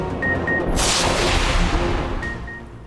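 Fireworks at an Independence Day celebration go off in deep booming bursts with crackling, one heavy blast dominating the middle amid a continuous rumbling, fairly loud and without talk.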